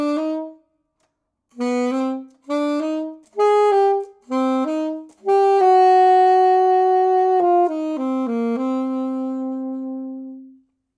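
Alto saxophone playing the first phrase of a melody: short separated notes, then longer slurred notes with a sustained held tone, solo and close with silent gaps between the opening notes.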